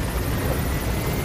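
A helicopter in Metal Gear Solid V roars steadily as it flies, a dense, loud, continuous rotor and engine wash that fills the short stretch without pause or voices.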